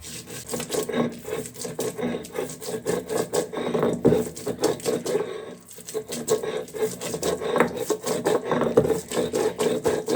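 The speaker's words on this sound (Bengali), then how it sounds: "এখন আমি বুদ্ধের শাকগুলো বাটায় বেটে নিব ভালোভাবে" Bathua greens are ground on a traditional grinding stone, a continuous close rhythmic scraping and rubbing of stone on stone with brief pauses between strokes.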